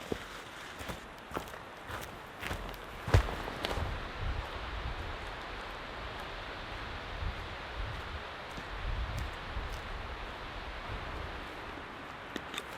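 Strong wind gusting through trees at dark before a storm, a broad, steady roar of rustling with footsteps and crunching close by.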